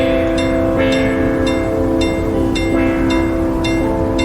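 Train in the Hello Neighbor 3 video game, a loud steady mechanical drone with rhythmic clicking and repeated bursts, continuous throughout with no talking.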